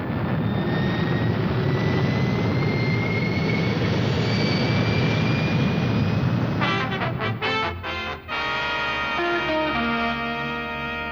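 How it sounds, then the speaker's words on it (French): Rocket engines fire aboard the spacecraft in the 1962 puppet science-fiction series Fireball XL5, a loud steady roaring rush that holds for several seconds, then breaks into stuttering pulses and gives way to tonal electronic effects. "Mettez à feu les réacteurs."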